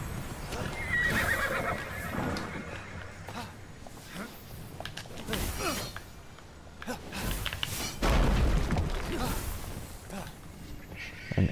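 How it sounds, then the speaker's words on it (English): A horse in the Immortals Fenyx Rising video game whinnies and clip-clops at a gallop, hooves thudding rhythmically with louder bursts, mixed with game sounds and faint talk. "Why'd I pull out my horse?"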